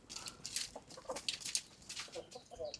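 Several Aseel chickens cluck in short, scattered bursts nearby, a busy uneven chatter of hen calls with no talking.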